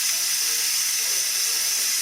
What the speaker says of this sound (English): I'm doing a quick release on the pot, which means I've physically moved this over to steam.